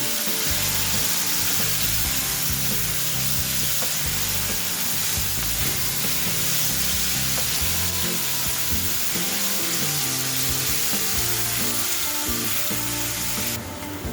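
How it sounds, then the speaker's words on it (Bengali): Onions with salt frying toward golden brown in oil for a soybean pulao, giving a continuous even sizzle with a faint stirring clatter, close and steady with no talk. "এবার পেঁয়াজটাকে গোল্ডেন ব্রাউন করে ভেজে নেব।"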